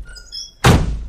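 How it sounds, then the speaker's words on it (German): A door is shut with a single solid thunk, close and fairly loud, following a moment of quiet room tone with faint tonal background sounds. "Und mach bitte die Tür zu."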